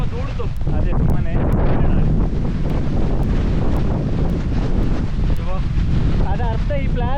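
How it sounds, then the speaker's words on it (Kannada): Strong wind on a misty hilltop on the Patla Betta trek blasts the microphone in a loud, continuous roar, with gusty buffeting and people talking faintly beneath. "ಗಾಳಿ ಗಡಗಡ ಬಂತಲ್ಲ ಅದೇ"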